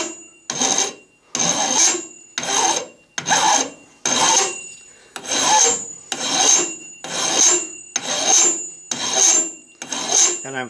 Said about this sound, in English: gate off of it using a double cut flat bastard file